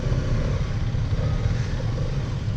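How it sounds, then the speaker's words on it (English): A Hero Karizma XMR motorcycle, a liquid-cooled tourer ridden in first gear in Rajasthan, runs with a loud, steady low engine drone mixed with wind rush, continuous and close. "Smooth engine here. It's got a good sound."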